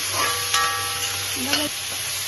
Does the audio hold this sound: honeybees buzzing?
no